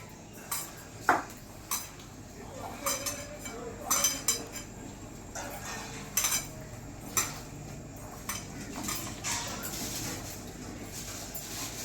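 Spoon clinking and scraping in a bowl while pumpkin flower fritter batter of rice flour and gram flour is mixed by hand, irregular sharp taps and stirring strokes at close range.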